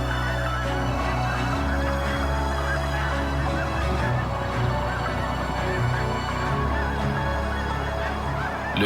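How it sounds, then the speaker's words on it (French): Snow geese freshly arrived from the U.S. east coast crowd a tidal mudflat, a dense flock honking continuously in overlapping calls, loud and near, with no talk. "Les oies blanches fraîchement arrivées de la côte est des États-Unis s'entassent sur la bâture."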